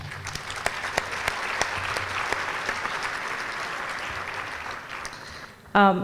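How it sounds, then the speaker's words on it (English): A crowd at a gala applauds steadily for several seconds, clapping dense and even before tapering off, followed by a brief burst of voice. "So I think we should give a big round of applause to Nahla."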